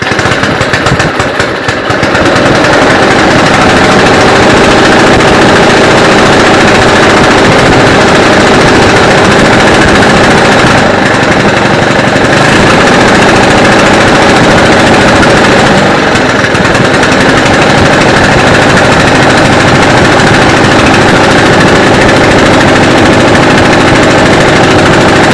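A barn-find Homelite Jacobsen snow blower engine with a replaced carburetor running on a test run, a very loud, close, rapid sputtering engine roar that holds steady throughout with slight surges and no talk.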